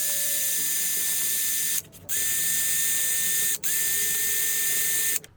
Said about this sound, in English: this is just a brass wire wheel, so I'm really not taking anything off